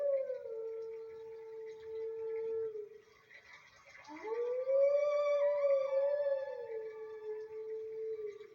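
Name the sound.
wolf howling in video game Twilight Princess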